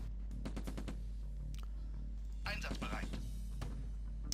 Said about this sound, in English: someone is definitely shooting at us